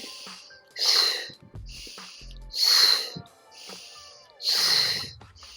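Slow, audible breaths during a gentle beginner Pilates leg exercise, three long airy exhales spaced about two seconds apart, close and fairly loud, with faint background sounds between them.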